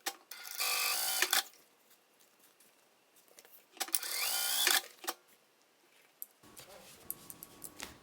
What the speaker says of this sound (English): We are going to sew this element from all sides, but leaving the gap so we can flip it around.